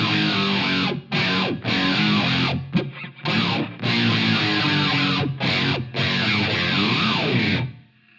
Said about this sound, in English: It's basically the distortion sound, but with some extra bits.